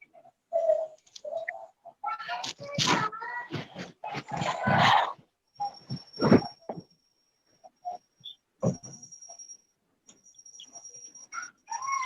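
A bird calls repeatedly in short tonal bursts separated by pauses, fairly close and clear, with a few other brief noises in between.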